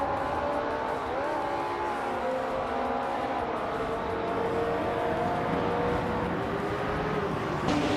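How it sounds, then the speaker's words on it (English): Racing engines drone and rise together as cars pull away at the start of a video game race at Circuit Assen North, led by a 1973 Porsche 917/30 Spyder, a steady loud engine roar with a brief whine. "the race kicks off at Circuit Assen North with Hingle McCringleberry on pole in a 1973 Porsche 9/1730 Spider"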